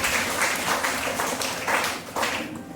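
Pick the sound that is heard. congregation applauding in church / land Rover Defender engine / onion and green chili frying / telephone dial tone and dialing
congregation applauding in church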